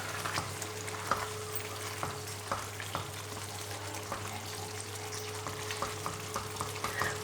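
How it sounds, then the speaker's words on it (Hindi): Boiled lentils frying with radish in a pan give a soft, even sizzle, punctuated by regular light scrapes and taps of a spoon being stirred through. "अब दाल को भूनेंगे मूली के अंदर।"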